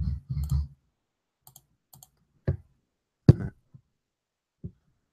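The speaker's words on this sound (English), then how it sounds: "I'm still typing in the other one." Sparse, isolated clicks of typing on a computer keyboard, a few separate taps spread out against near silence, preceded by a brief low thump.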